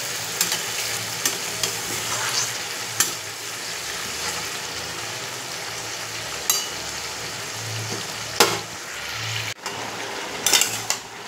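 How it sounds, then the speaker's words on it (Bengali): Chicken frying in a pan gives a steady, close sizzle with occasional clinks and scrapes of stirring; no one speaks. "আমি এটাকে ভালো করে ভাজবো"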